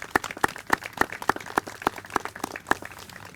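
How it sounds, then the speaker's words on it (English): Sparse applause for the Recreation and Parks team at an outdoor playground ribbon cutting, about ten distinct, evenly spaced claps from a small gathering, moderately near and with no talk over them. "Please give them a big round of applause."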